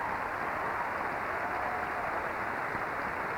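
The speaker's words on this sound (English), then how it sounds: "give yourselves a round of applause also" Audience applause at the ECMA 2000 awards show, a dense, steady wash of clapping filling the hall throughout without a break.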